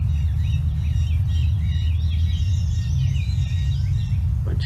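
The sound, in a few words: jays calling as a flock flies over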